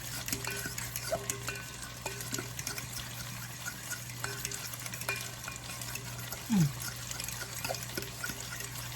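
Spoon stirring a small mix of mayo, a pinch of paprika and parsley in a bowl, a soft continuous scraping and clinking close by with no talking.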